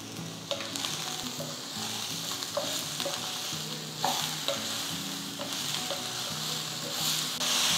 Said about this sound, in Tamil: ஒரு 3 வெங்காயம் நீட்டு வாக்கில் நறுக்கி வச்சுருக்கேன், இதையும் நம்ம வதக்கிக்கலாம்.